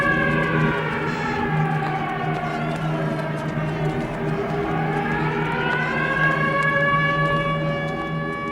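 An air raid siren wails over the town of Úbeda, Spain, in the first half of the twentieth century. A loud, sustained tone dips in pitch midway, then rises and holds steady for the full stretch, with no voices.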